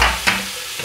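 Fried rice with kale and frozen mixed vegetables being stir-fried, with a short scrape of the spatula over a soft sizzle in a brief, close stretch.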